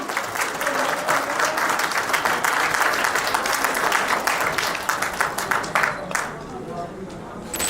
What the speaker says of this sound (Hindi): जोरदार तालियां कर दो,